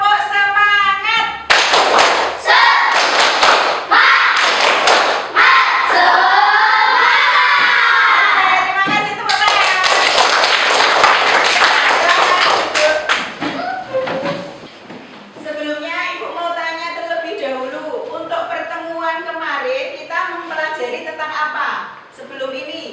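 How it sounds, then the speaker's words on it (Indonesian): Primary school children in an Indonesian classroom perform a rhythmic spirit clap cheer, loud rapid clapping mixed with shouted chanting voices, then a quieter stretch of talking and patterned claps. "Yuk, tepuk semangat."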